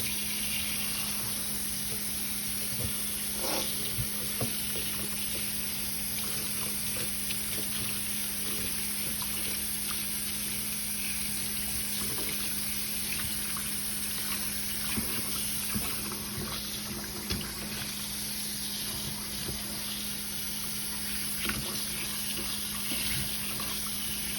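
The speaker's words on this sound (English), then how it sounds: "I'm just going to run some water" Tap water runs steadily as a Brazilian jiu-jitsu belt soaks under the stream, a constant close rush with soft splashing and no voices.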